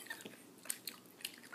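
Soft, close chewing of a Bean Boozled jelly bean, a few wet, sticky bites spaced irregularly in an otherwise quiet moment.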